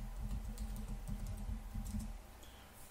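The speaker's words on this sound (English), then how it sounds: "Can you type your password?" Password being typed on a computer keyboard, a steady run of soft, close key clicks over a low background hum for most of the stretch, easing off toward the end.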